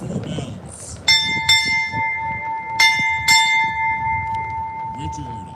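Four ship's bells ring out at a United States Navy retirement ceremony, struck in two quick pairs with a clear ringing tone that lingers and fades, loud and close in an indoor hall.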